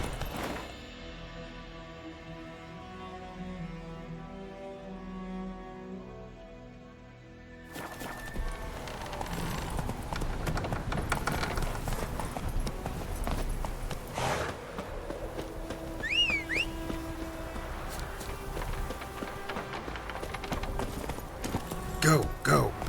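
A horse gallops in The Witcher 3: Wild Hunt, its rhythmic clip-clop of hooves steady and moderately loud, mixed with other game sounds through most of the stretch.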